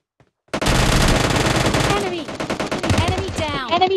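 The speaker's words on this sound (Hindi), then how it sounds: "ऊपर से तेरे पे शॉट ले रहा हूँ" Gunshots in PUBG Mobile Lite: a loud, close, rapid burst of automatic fire for about a second and a half, then scattered single shots under excited male speech.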